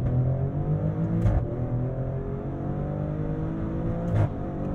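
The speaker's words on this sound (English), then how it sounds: "The sound of that exhaust, the responsiveness of this engine and transmission" A 2023 Maserati Grecale Trofeo SUV is heard from inside while driving in manual mode with paddle shifts. The engine drones steadily under acceleration, and two sharp exhaust barks or shift pops stand out, one early and one near the end.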